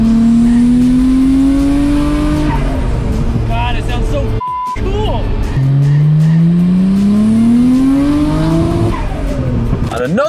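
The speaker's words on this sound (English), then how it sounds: "Official first drive with the intakes." A Nissan R34 GTR fitted with new intakes revs hard on its first drive, engine note climbing loudly through rising gear pulls with a brief gap between shifts and faint tire noise, and a voice may be heard under the engine.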